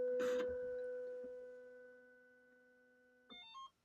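A Sparx ice hockey skate sharpener lets out a short, quiet electronic alert of a few stepped beeps, heard after a fading steady machine hum and a brief mechanical clatter.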